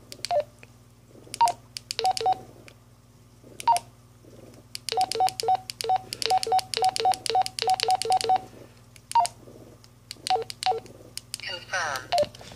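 Baofeng UV-5R handheld radio keypad pressed repeatedly, each key giving a short tone beep in quick bursts, with synthetic voice prompts announcing entries close up.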